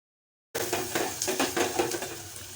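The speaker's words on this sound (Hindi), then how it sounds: "इतनी देर में मैंने सोचा चलें प्याज फ्राई कर लेती हूँ" Onions sizzle in a pan after a brief silence, a close, steady frying hiss with a series of soft scraping and stirring strokes, and no voices.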